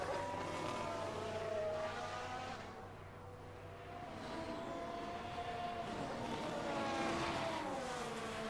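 Formula 1 cars racing down the pit straight at Imola in F1 Manager 22, a sustained high engine whine that dips briefly then swells again as cars pass, moderately loud with no talk.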